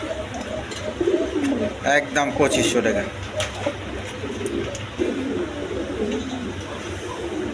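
Female pigeons at a pigeon sale coo in low, rolling bursts beneath someone talking nearby, with brief clatters in between.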